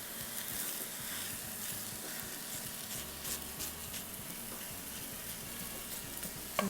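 Meat seasoned with Italian seasoning and red pepper flakes browns in a pot, giving a steady close sizzle with occasional crackles and soft stirring scrapes.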